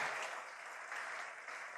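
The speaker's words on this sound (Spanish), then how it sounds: "Gracias por aplaudirme antes" Sustained audience applause from a seated crowd at a corporate quarterly call event, dense and even clapping filling the room with no voices over it.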